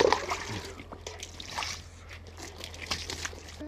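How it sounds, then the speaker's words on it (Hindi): Water is poured and splashed onto a solar panel to clean it in a village, with irregular trickling and splatter up close over a faint low hum. "अब पहले इसके ऊपर ना पानी मैं डालता हूँ।"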